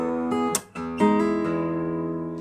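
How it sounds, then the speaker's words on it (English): Acoustic guitar with the bass string plucked by the thumb, several plucked notes ringing into sustained tones, close and clear with no talk. "you're going to make sure to pluck the bass one more"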